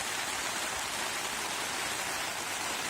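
Heavy rain hammers steadily on a Fjallraven Akka Endurance 2 tent pitched on flat ground near a viaduct, a dense, continuous hiss with no pauses or voices.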